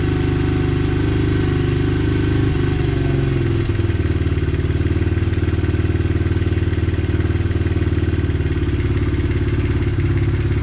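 A Honda XR 100 motorcycle engine with a swapped carburetor idles close by in a steady, loud, slightly high putter, with a brief blip partway through before it settles again, and no talking.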